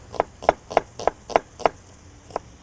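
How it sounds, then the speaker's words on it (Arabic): A knife chops onion on a cutting board, about seven crisp, evenly spaced thuds in quick rhythm, close and clear with quiet kitchen ambience behind. "واكمل تقطيع البصل."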